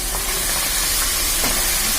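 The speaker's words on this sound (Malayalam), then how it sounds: "അപ്പൊ നമുക്ക് എല്ലാ പപ്പടങ്ങളും കുറേശ്ശെ ഇങ്ങനെ ഇട്ടിട്ട് വറുത്തെടുക്കാം." Pappadams fry in hot oil, a loud, continuous sizzling hiss close by with no talking.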